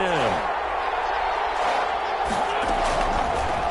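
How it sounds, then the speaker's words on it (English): Stadium crowd in a football video game on PS4, a steady roar of cheering that holds loud throughout, with game commentary speech mixed over it. "Crowd getting in it a bit already."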